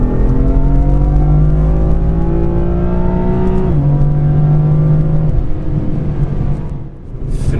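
BMW M4 F82 with its S55 engine accelerating hard, a loud close engine note climbing steadily in pitch, a gear shift drop near the middle, more climbing, then easing off near the end, with no talking.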